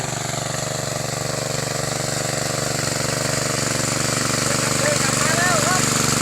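Steady drone of an engine-driven water pump filling a flooded rice paddy, running continuously at close range with a constant even rhythm and slight rise in loudness; outdoor farm setting, no talk.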